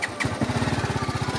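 A superbike engine runs close by in a tunnel, a loud, even rapid pulsing throb with a brief rev at the start.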